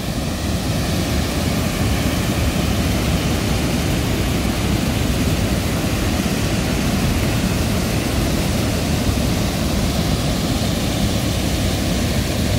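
Neshaminy Creek waterfall in Hulmeville Borough, Pennsylvania, pours in a constant, loud, even roar of rushing water that holds steady with no breaks and no voices.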